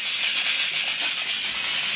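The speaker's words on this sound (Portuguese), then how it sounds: "O barulho aqui é a panela de pressão, tá?" A pressure cooker on a stovetop hisses with a continuous, bright, airy stream of steam, loud and unbroken for the whole moment, with no voices.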